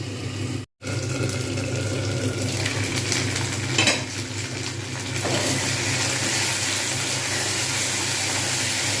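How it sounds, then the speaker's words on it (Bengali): Chopped taro and onions fry in a covered pan for a Bengali taro and prawn dish, giving a steady close sizzle and hiss that runs the whole time, broken by one brief dropout and a faint scrape near the middle. "কচুগুলো সুন্দরভাবে ভাজা হয়ে গেছে পেঁয়াজগুলো আরও সুন্দর ভাজা হয়েছে"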